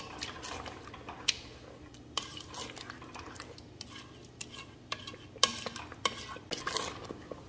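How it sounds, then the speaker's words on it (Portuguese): A spoon stirs ripe fig jam cooking in a pot on the stove after water is added, giving irregular scraping clinks and knocks against the pot over a low bubbling simmer. "E vou mexer."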